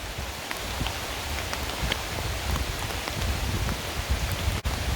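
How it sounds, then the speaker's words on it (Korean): Heavy rain pours steadily onto leaves, a dense, continuous patter with scattered louder drops throughout, no voices. "빗방울은 점점 더 굵어지고 있습니다"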